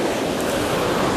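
Stormy sea waves pound a fine pebble shore at Novofedorovka on the Crimean coast, a loud, constant roaring wash with wind noise and no talk.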